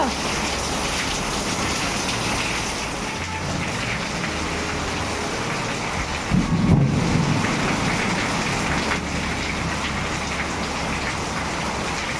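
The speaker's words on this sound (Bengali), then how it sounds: "জোর ঝড় হচ্ছে" Heavy rain roars continuously in a storm while a single low rumble of thunder rolls through briefly midway, with no one talking.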